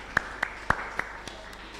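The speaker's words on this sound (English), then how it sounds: "I think we should give her a round of applause." A few scattered handclaps at a physiology conference, five or six distinct claps spaced roughly a quarter-second apart, fading out, with no crowd swell behind them.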